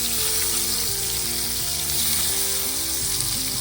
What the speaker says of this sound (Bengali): ওইদিকে আমার কুমড়োটা ভাজা হচ্ছে